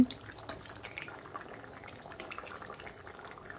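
Lentil curry with potatoes boiling in a pot, a quiet, close bubbling simmer with small pops and drips continuing evenly throughout.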